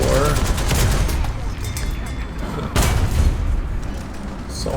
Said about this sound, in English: Knock down some of these railings with my 37 and my 50 cals.